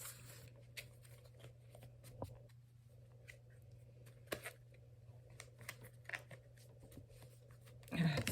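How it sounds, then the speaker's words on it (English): Tarot cards of a newer but stiff deck being shuffled by hand, giving soft, scattered riffling clicks and taps at close range, quiet against a steady low hum, with a louder burst of handling at the end. "These cards are way harder to shuffle."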